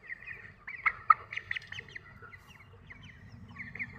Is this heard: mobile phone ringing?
no